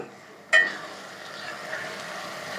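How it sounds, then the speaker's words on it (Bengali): Lentils with turmeric stirred and frying in a hot pan: a sharp sizzle bursts up at once, then settles into a steady, close hiss with faint stirring scrapes, no voices. "একে ভালো করে আমি এক দু মিনিট নেড়ে নেব"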